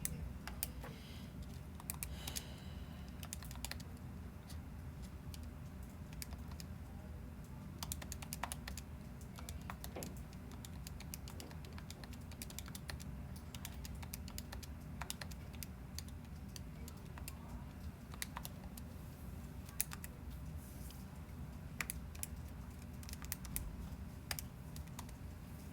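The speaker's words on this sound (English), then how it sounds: "in your calculator, you're typing this in" Calculator buttons pressed in a quick irregular series of faint clicks and taps while a matrix is entered, with short pauses between bursts.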